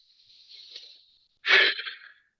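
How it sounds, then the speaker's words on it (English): A group of people inhaling deeply together, then exhaling in a loud collective rush of breath that fades away, with no talking. "I'm going to ask you to take a deep breath with me, everyone."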